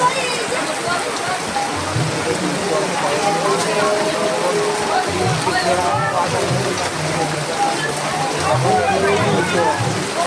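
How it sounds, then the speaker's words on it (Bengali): Heavy rain drums steadily on a tarpaulin, a dense continuous patter, while people talk beneath it. "দেখছো ভাই বৃষ্টি চলে এসছে।"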